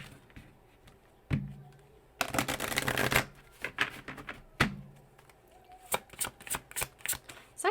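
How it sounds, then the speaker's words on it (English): A deck of tarot cards is shuffled close up in bursts, with a long riffle of rapid flicking followed by scattered taps and sharp card snaps against a table, and no talking. "one more shuffle"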